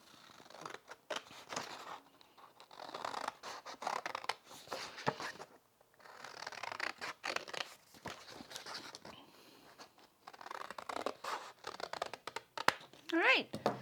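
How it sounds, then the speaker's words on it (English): Scissors snip through a paper birdhouse-shaped craft card in bursts of crisp cutting and rustling paper, close and fairly quiet, pausing between passes with a small clatter at the end. "Now I'm going to cut that out just like I cut out my template"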